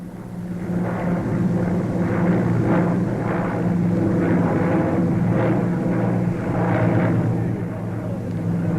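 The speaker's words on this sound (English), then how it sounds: "The very latest in jet bombers, the Victor was there, making its first public appearance, an aircraft of strange and menacing design." A Handley Page Victor jet bomber in 1953 makes a steady, loud, broad roar that holds for the whole stretch with gentle swells, close and continuous with no voices.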